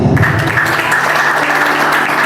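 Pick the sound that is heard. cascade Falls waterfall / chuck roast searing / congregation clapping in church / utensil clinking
congregation clapping in church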